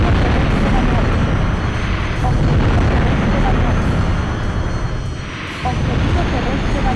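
Heavy rockets from a Harrier jet strike a ground target in the PS1 game Eagle One: Harrier Attack, producing loud, continuous, rumbling booms over a constant jet engine roar, with a synthetic voice speaking over the noise.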